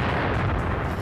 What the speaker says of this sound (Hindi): रूसी सेना ने होविट्ज़र टैंक और MLRS से बारूदी बौछार की